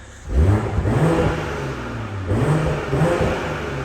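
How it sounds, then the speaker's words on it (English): A 2020 BMW M340i xDrive with petrol particulate filters revs hard twice in Sport Plus mode, rising and falling in pitch with a deep, throaty, crackling exhaust note, close and loud. "Despite this being a 2020 car, and it does have of course the GPF filters, it still makes a cracking noise."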